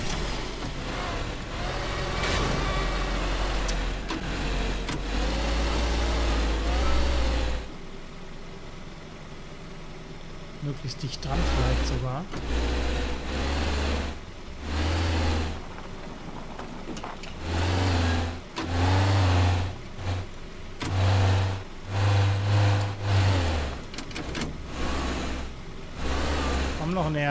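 A car engine in the video game Teardown, revving and surging repeatedly in uneven bursts with brief drops and pauses, under someone speaking German.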